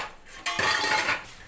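Metal pots and dishes clatter and scrape against each other while being washed, one short close burst of clanking and rattling with no voices.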